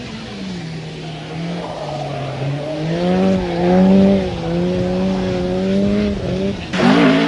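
A rally car on the special stage at Nutts Corner racetrack, 1987 Ulster Rally, revs and accelerates away, its engine note climbing and dipping through gear changes, loud and fairly close, with a burst at the end.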